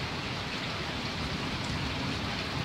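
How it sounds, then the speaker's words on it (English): Heavy rain with hail pounding down during a severe storm in Germany, a dense, steady roar that stays loud and unbroken throughout, with no voices. "This was seriously the most fucked up rain I have ever seen before."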